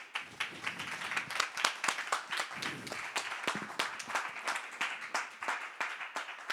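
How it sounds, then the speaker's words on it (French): Audience claps after a talk on choosing vulnerability, a moderately quiet, steady patter of many individual hand claps continuing evenly for several seconds. "je pense qu'on peut l'applaudir"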